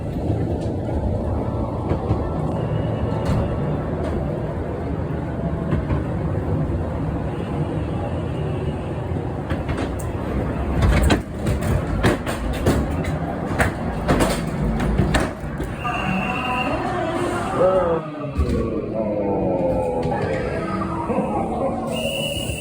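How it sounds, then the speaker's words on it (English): Ride car noise from the Haunted Mansion ghost train at Knoebels Amusement Resort, a loud continuous rumble of wheels on track with clatters and bangs, later overlaid by tonal effects sounds. "Wow, ladies and gentlemen, that was my favorite ghost train I've ever been on."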